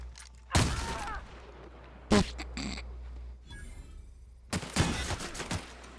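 Video game gunfire: a few loud, sharp blasts spaced across several seconds, close and punchy, with crackling noise and brief hissy effects between them and no one talking.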